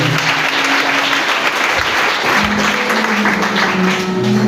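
A church congregation breaks into loud, sustained applause for the treasurer, dense clapping close and full throughout, with a faint sustained tone running underneath.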